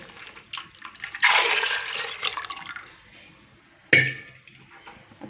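Strained lentil cooking liquid is poured into a spicy curry, a gushing liquid splash lasting about two seconds followed by a shorter second pour, close and moderately loud with quiet gaps between.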